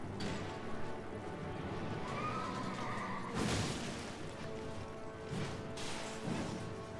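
A horse whinnies amid busy game action, with hoofbeats, crashes and impacts over a constant background score.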